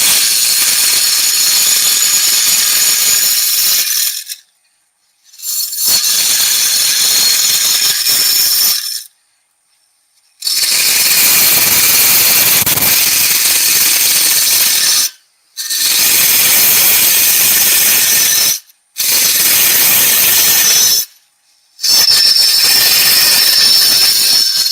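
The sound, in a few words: wood lathe turning a vase, chisel vibration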